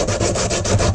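Sandpaper rubs back and forth on wooden slats to take off small wood burrs, giving quick, rhythmic, close scratchy strokes.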